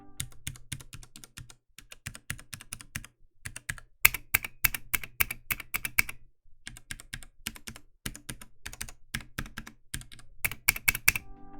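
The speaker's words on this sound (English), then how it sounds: "These switches are much louder and more clicky than the silent reds." Fast, clicky typing on a Ducky One 3 Mini mechanical keyboard with brown switches, in bursts of sharp keystrokes, close and crisp, with brief pauses between runs.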